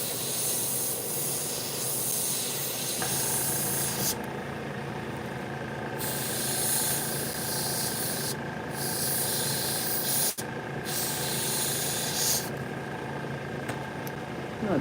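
Spray painting with hissing overspray: a steady, dense hiss runs throughout at moderate level, with bright bursts switching on and off several times.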